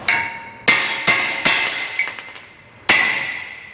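A hammer strikes a brake rotor to shock it loose from the hub of a 2007 Toyota FJ Cruiser, giving five sharp metallic blows with ringing decay, spaced irregularly and loud, close up, with no talking.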